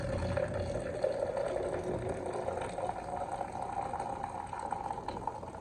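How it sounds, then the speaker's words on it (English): Hot water poured over dried hibiscus in a French press, a steady close pouring and filling wash running without pause for several seconds with no voices. "we're gonna pour hot water over it. 8 ounces of hot water."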